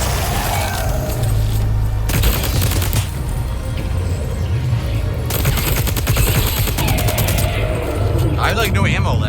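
Loud video game gunfire in bursts, dense rattling volleys and booms against a monster, with a voice speaking between the shots.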